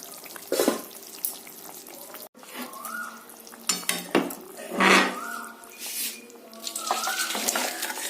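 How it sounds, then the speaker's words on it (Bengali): Thin hilsa fish curry with raw banana and potato is poured out of a cooking pot, bringing irregular metal clanks, scrapes and liquid splashing in bursts, close by with quiet gaps between. "এবার আমি ঝোলটাকে ঢেলে নেব"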